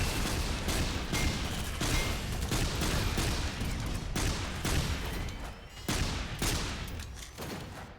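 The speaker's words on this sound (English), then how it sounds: "This coil gun." A coil gun firing in the top-down shooter SYNTHETIK 2, as a dense, loud, continuous barrage of rapid shots. Heavy booming hits cut through the steady stream for the full stretch.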